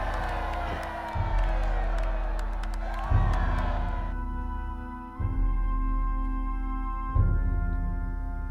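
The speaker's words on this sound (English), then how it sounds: "Wow, a lot of people were cheering." Large crowd roaring and cheering at an execution in the Fable III video game, loud sustained whoops and shouts that swell in repeated waves, with a low booming pulse recurring about every two seconds beneath.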